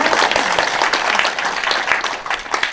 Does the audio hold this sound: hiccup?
no